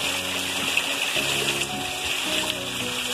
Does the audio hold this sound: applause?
no